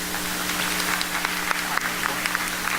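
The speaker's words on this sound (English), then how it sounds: "give him a big, big round of applause, Satnarayan Raghu" Audience applause at an evening music school concert, a soft, steady patter of clapping hands that continues evenly throughout at moderate distance.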